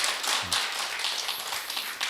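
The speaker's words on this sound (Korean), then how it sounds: "다시 한번 박수 일단 부탁드립니다." A congregation applauds inside a church during a Korean testimony service, honouring the pastor after a sermon on Isaiah; a dense, steady patter of clapping hands fills the room for about two seconds.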